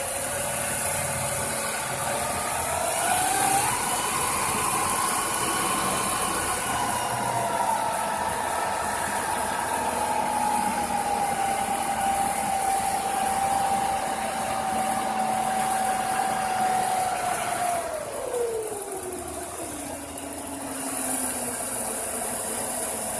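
Engine noise from a Buick Century, heard from underneath: a steady droning run with a sustained whine that rises, holds for a long stretch, then drops in pitch near the end, with no voices.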